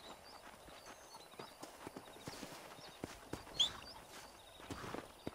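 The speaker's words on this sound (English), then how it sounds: "Let's see if we can't wrangle some horses." Horse hooves clip-clop steadily in the ranch setting of the video game Red Dead Redemption, a quiet, irregular run of soft hoofbeats over faint ambient outdoor sound with an occasional bird chirp.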